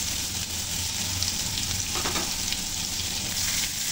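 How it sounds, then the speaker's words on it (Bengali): Chopped onion frying in hot oil with whole cumin seeds, cooked for a potato and egg curry: a steady, close, dense sizzle that holds evenly throughout with no voices. "এখন এখানে দিয়ে দিচ্ছি একটা পেঁয়াজ কুচি।"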